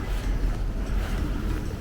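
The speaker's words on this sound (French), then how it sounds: "Il y a tout le temps du vent." Cold winter wind blows hard, in snowy conditions that are starting to melt. It buffets the microphone as a loud, continuous low rumble, with no talking.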